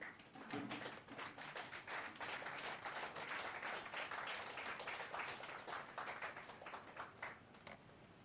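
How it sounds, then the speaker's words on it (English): An audience claps at a World Homoeopathy Day ceremony honoring a teacher, a moderate, fairly distant round of applause that rises quickly and holds steady before easing slightly at the end. "give a good clap, a very mild and humble clap"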